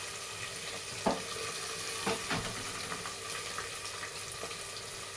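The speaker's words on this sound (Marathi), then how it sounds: "मस्त व्यवस्थित परतून झाला कांदा" Chopped onion sautéing in a pan for moong dal khichdi gives a soft, steady sizzle with a few faint clinks and stirring touches, quiet and without talk.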